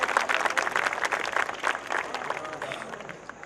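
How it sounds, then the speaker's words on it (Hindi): An audience at a kavi sammelan poetry gathering breaks into dense, sustained applause, with many hands clapping together loudly at first and then gradually thinning out. "तो जोरदार तालियां।"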